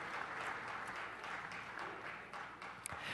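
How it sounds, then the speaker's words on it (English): A council meeting audience gives a round of applause, a fairly faint, steady wash of clapping from a room of people, heard at a distance. "we can take a round of applause"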